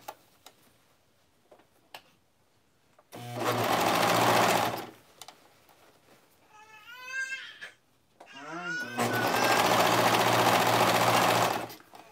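A coverstitch sewing machine runs across a baby onesie in two long, loud bursts of steady whirring, separated by a quieter gap with small squeaks and clicks, plus softer handling sounds at the start.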